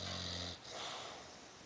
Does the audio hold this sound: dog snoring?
yes